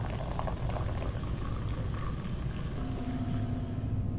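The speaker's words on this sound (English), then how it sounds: "I've poured the beer down the drain." Beer from a can poured down a drain in the game Morningstar gives a steady, bubbling gush of liquid that keeps running throughout, with a faint hum rising near the end; no voices.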